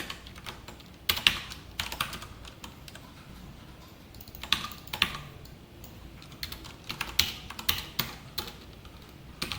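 Rapid keystrokes typing code on a computer keyboard, coming in quick irregular bursts with short pauses between, close and clear with no voices.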